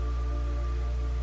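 Steady rain falls in the stealth game Metal Gear Solid 3: Snake Eater, a continuous even patter under a low constant hum, with no voices.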